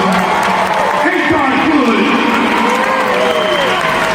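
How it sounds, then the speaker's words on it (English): Loud, dense applause and cheering from a stand-up comedy crowd in Jacksonville, Florida, with shouts rising over steady clapping throughout. "Let's give God a round of applause"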